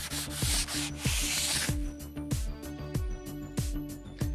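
Excess Rubio Monocoat oil finish being rubbed off wood with a pad, heard as quick rhythmic rubbing strokes, close and steady, with faint knocks between passes.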